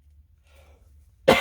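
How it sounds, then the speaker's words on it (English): A single sharp cough bursts out at the very end after near silence, close and loud, with a brief throaty rasp. "I'm sorry, I've got a cough."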